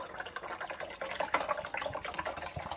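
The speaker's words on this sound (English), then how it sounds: "I filled this up with just plain old tap water. I'm going to pour it in there now." Plain tap water pours into the reservoir of a Keurig K-Select coffee maker, a light, continuous splashing and trickling at close range with no voices.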